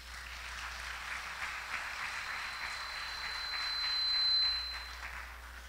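Audience applause at a luncheon, a steady and fairly faint wash of clapping that swells briefly near the end, with no one talking.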